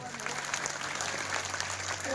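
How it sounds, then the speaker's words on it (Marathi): An audience claps steadily for bhajan singers at a devotional hari-naam gathering, a dense, continuous patter of applause from a crowd held at a moderate, even level throughout. "आमच्या सर्व भजनी मंडळी करता टाळकरी मंडळी करता जोरदार टाळी वाजवा सर्वांनी"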